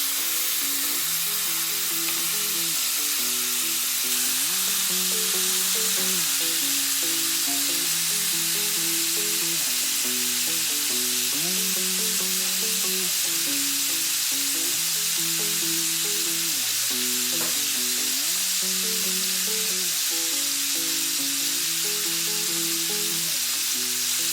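A whole lobster laid flat on a very hot grill sizzles in a loud, steady hiss that lasts throughout, with a repeating tonal pattern like music running underneath.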